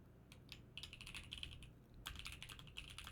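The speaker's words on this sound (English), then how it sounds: "I'm typing it for you." Bursts of fast keyboard typing on a computer keyboard, close and fairly quiet, with a pause in the middle and no voices.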